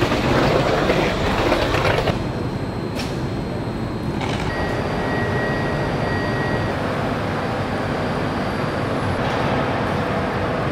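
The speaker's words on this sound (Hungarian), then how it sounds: "Ahogy látjátok, már a vonaton vagyunk" A train runs on rails, heard from on board as a steady rumbling clatter with a brief louder burst at the start, continuous and close, with no talking.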